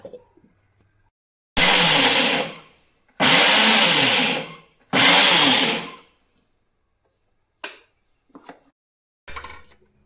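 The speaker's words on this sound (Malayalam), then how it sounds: "തേങ്ങയും ഉള്ളിയും ജീരകവും മിക്സിയിലിട്ടിട്ട് ഒതുക്കുക" Mixer grinder grinding coconut, onion and cumin without water in three loud, close bursts of whirring, each a second or more long and separated by brief pauses, then a few short clicks and knocks.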